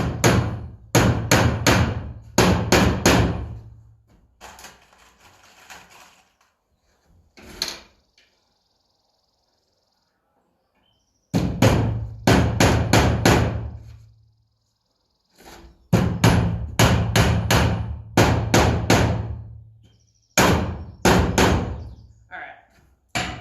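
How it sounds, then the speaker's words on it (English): Hammer blows drive nails into wooden pieces of a glued-up DIY step stool, coming in rapid bursts of sharp, loud strikes separated by pauses, with a quiet stretch in the middle. "when you're hammering it won't move around quite as much"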